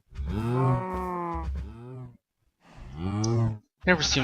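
Cows mooing in the Minecraft video game, several long harmonic moos in succession, loud and close, with a short clicking sound near the end.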